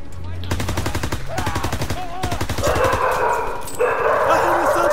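Rapid machine-gun bursts rattle in a Call of Duty WW2 battle while a dog barks and whines, followed by a louder, steady rush of gunfire and noise through the rest of the scene.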